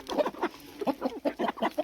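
Two broody hens on a farm give short, rapid clucks in quick bursts, close and fairly clear, with brief gaps between the calls.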